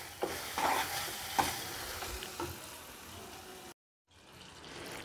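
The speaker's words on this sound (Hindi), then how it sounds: "इसमें हम शक्कर डाल लेंगे और इसको थोड़ी देर पहले इसमें अच्छे से मिक्स कर लेंगे" Sugar being stirred into mawa in a pan for til ladoo, a close scraping and stirring with a few louder knocks, then a brief silent gap before the stirring picks up again.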